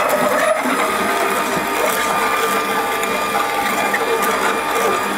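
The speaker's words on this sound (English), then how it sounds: "Turn on our machine and let's start juicing." An electric juicer runs on celery, giving a loud, continuous mechanical whir and grind close by with no break.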